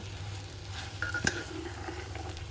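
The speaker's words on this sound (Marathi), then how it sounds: "इंद्रायणी राईस मी आता टाकून घेतलेला आहे आणि तो पण मी चांगला परतणार आहे" Indrayani rice being sautéed and stirred in a pan for soda bhat: a soft, continuous frying hiss with a faint scrape of the spoon partway through, quiet and close.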